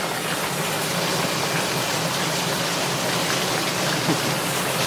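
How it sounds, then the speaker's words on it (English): Heavy rain pours down in a dense, steady hiss, loud and unbroken, with no voices. "It's raining so hard, I'm soaked."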